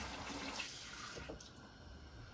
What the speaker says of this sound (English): we're going to add about a tablespoon of really, really hot tap water to it